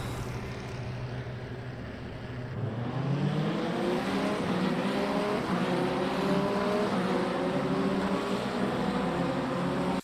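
Race cars launching off the start in a racing video game, engines climbing from a steady idle drone into a loud rising roar around the three-second mark, then holding a dense, layered howl of several cars together.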